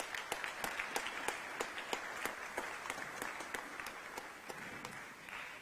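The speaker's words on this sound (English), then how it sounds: "Can we give them a round of applause?" Audience at a UN dialogue session with first ladies and the UN-Habitat Executive Director applauds, with distinct individual claps standing out sharply over a fairly quiet, moderately sized round of clapping that tapers slightly toward the end.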